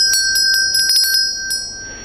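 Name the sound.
small hand bell being rung in dharma practice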